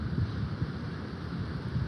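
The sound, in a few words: wind blowing outdoors into the microphone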